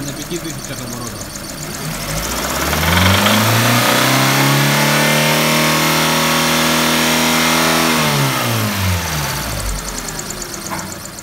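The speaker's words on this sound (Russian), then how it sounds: "Работа двигателя на 5000 оборотах." A Hyundai Elantra's 2-litre G4GC engine is revved up to about 5000 rpm. The pitch climbs over a couple of seconds, holds a loud, close roar for several seconds, then falls back to idle.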